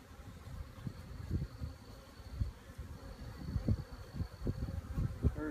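Honeybees buzzing at a hive, a soft, close, continuous drone of many wings with irregular louder thrums as individual bees pass near.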